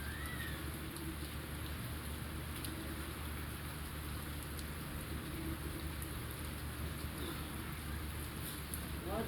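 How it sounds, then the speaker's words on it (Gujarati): Unseasonal winter rain, the first of the season, falling steadily and heavily on surfaces outside, a constant dense patter with no voices. "આ મોસમનો પહેલો વરસાદ છે"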